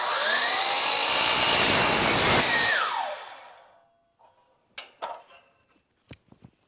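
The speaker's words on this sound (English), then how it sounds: "I'm set up to cut this piece of aluminum." Sliding miter saw cutting aluminum: a loud high blade whine for about three seconds, then winding down to silence, followed by a few sharp clicks and knocks.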